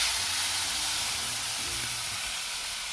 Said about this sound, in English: So we'll want to put the steak's fat cap down for 2 minutes.